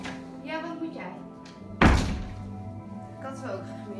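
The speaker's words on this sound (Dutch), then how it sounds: "Ik doe even de deur." A door closes with a solid thunk near the middle, set among ongoing talk from people in a home fitness session.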